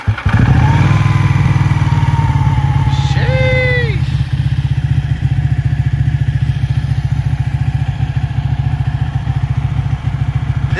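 A Ducati Panigale 1199S motorcycle starts with a thump and settles into a loud, close, lumpy idle with one quick rev blip near the start, then keeps rumbling steadily.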